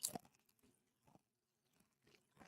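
Crunchy snack chewing close to the mic, with a few crisp bites and scattered crunches separated by brief pauses, faint and quiet overall.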